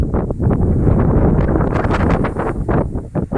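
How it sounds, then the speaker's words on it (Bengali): Strong wind on Mount Fuji, Japan, buffets the microphone in a steady, roaring rush, with gusts swelling and easing toward the end. "প্রচণ্ড হাওয়া বইছে হ্যাঁ মোবাইল ধরে রাখাও মুশকিলের হয়ে যাচ্ছে"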